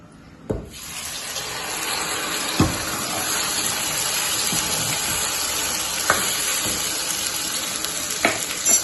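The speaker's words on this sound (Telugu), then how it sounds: "నూనె వేసుకొని ఇందులో మనం టమాటా, ఉల్లిగడ్డ వేస్తే గ్రైండింగ్ మిక్చర్ వేసుకుందాం" A ground paste of tomato and onion hits hot oil with a sharp splash, then fries in a continuous close hiss. A few short clinks of a spoon or pan cut through, and no one talks.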